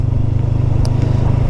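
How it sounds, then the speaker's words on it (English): A Honda CBR500R 500cc motorcycle exhaust rumbles steadily with a deep, throbbing low drone, close and loud without letup. "this exhaust, it sounds phenomenal. for a 500cc motorcycle, this exhaust is awesome"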